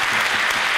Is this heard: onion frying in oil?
no